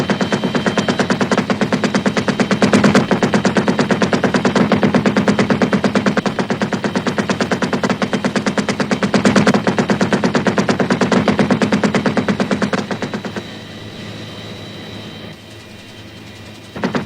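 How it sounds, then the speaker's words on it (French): A six-barrel minigun heavy machine gun fires in a continuous, dense, roaring stream of rapid shots, very loud and relentless, then the fire cuts off near the end and the sound drops to a lower rumble. "le minigun, mitrailleuse lourde à 6 canons, capable de tirer 4000 balles la minute"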